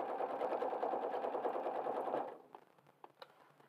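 A sewing machine stitches steadily around the edge of fabric held with small clips, a dense continuous whir that stops after about two seconds, followed by a few soft clicks and handling noises.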